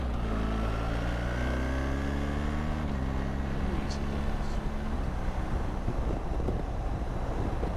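A BMW R 1300 GS Adventure motorcycle on the road, with engine drone shifting through rising and falling tones under constant heavy wind rush buffeting the microphone, plus a voice speaking over it.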